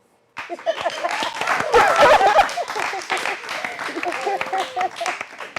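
An audience claps and laughs together, a busy patter of applause with scattered chuckles, while a voice talks over it.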